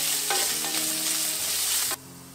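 Minced meat frying in a little vegetable oil, a loud dense sizzle with a few stirring scrapes, stopping suddenly and leaving quiet room tone.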